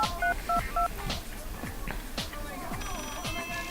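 A run of telephone touch-tone dialing beeps at the start, followed by clicks and clatter, with voices talking in the background.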